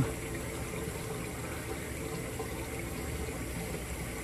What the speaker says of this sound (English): Running some fresh hot water in my bowl.